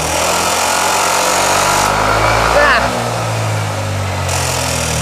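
A Yamaha NMAX scooter engine with a tensioner fault runs loud and close with a harsh, rattling clatter that holds steady throughout, while someone briefly speaks over it.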